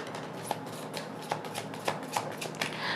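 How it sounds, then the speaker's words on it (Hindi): A deck of tarot cards is shuffled close up during a reading, a quiet, steady riffling and flicking with soft regular snaps and no speech over it. "एक लास्ट शफल"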